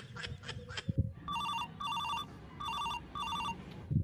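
A telephone rings in repeated short bursts, about four rings in quick succession at moderate volume. A few dull knocks and a faint room hum sit underneath, and no voices are heard.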